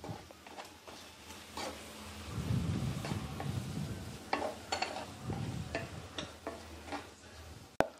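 Garlic and ginger fry in sesame oil for lemon pickle, giving a soft, steady sizzle with occasional clinks of stirring.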